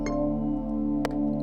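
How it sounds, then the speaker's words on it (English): Pittsburgh Modular synthesizer with a resonant filter, holding a steady ringing tone under a faint rhythmic ticking, with brief bright clicks near the start and again about a second in. "a lot of the sound you're hearing is actually the resonance of the filter."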